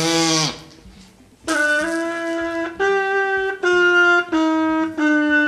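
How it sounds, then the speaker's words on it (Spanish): A trumpet fitted with a mute is played with a tight, buzzy lip technique, producing a few short, sustained nasal tones with rough edges and small pitch dips, close and moderately loud, separated by brief gaps. "Cuando tocas la trompeta como buzzing te va a pasar algo como esto."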